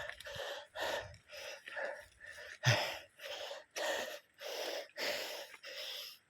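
Heavy rhythmic panting from a person hiking up a steep trail, with about eight quick ragged breaths in a row, close and breathy, with no talk.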